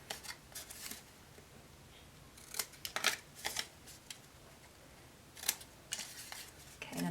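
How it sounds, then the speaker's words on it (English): Scissors snip the paper tab ends of a Cricut heart box in quiet, close bursts of crisp cuts, several short clusters spread across the stretch with pauses between and no talking. "I'm going to take my scissors, and I'm just going to cut on the end part, just a little bit of an angle off"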